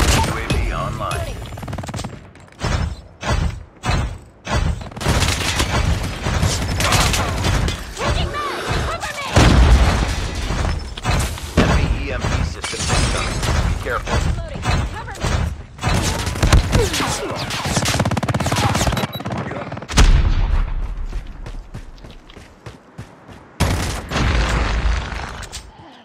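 Gunfire in a Call of Duty Mobile multiplayer match, with loud dense bursts of automatic fire and booming shots rattling almost continuously and broken by brief pauses, mixed with game voice callouts.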